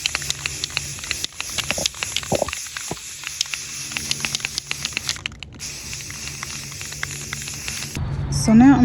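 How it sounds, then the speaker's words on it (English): An aerosol can sprays blue paint onto a wooden plant stand in a series of short hissing bursts, broken by clicks and pauses, with a voice speaking near the end. "we can go ahead and spray paint."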